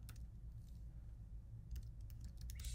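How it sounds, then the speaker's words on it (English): Keys clatter on a computer keyboard in quick, faint, irregular taps, close by and alone with no talking. "I'm going to go ahead and type this one out for you to see"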